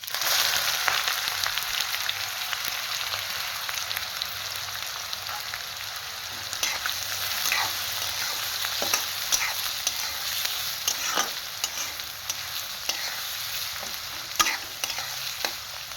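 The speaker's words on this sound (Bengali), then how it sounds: "এরপরে আমি পেঁয়াজ কুচিটা দিয়ে দিচ্ছি" Chopped onion sizzling in hot oil with spices for restaurant-style methi chicken, a steady close frying hiss with occasional stirring scrapes throughout, no talking.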